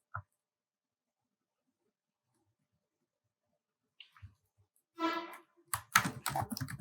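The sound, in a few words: typing code on a computer keyboard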